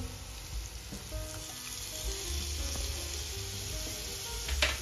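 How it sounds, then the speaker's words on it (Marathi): Curd goes into a sizzling paneer masala gravy with cashews, producing a loud, close, steady frying hiss with faint stirring scrapes and a brief burst near the end. "आता या स्टेजला आपल्याला दही ऍड करून घ्यायचे आहे."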